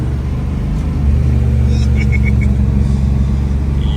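1971 Dodge Demon 340 with a four-speed manual driving on the street, a loud steady engine rumble with droning low tones heard from inside the car.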